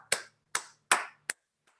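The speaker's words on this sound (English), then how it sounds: "Give yourselves a round of applause" A few sharp, separate hand claps, four in quick succession, sound close and dry in a quiet room, with a faint trailing clap at the end.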